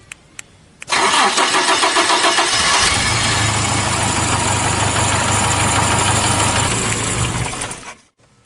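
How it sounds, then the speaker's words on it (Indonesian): A car engine cranks and starts, then idles loudly and steadily for several seconds while warming up before the sound cuts off. "Anda dapat melakukan pemanasan mesin selama 10 menit agar putaran mesin dan komponen dapat bekerja dengan sempurna."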